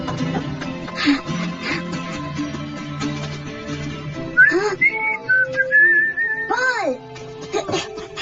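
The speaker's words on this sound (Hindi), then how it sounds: "मैंने आपकी सीटी सुनी।" A person in an animated cartoon whistles a few rising and sliding notes in the latter half, following stretches of speech and background sound, fairly loud and close.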